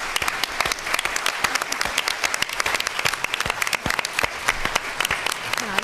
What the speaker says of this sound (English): I want to give my panel a round of applause